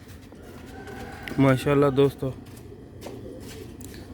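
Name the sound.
pigeons cooing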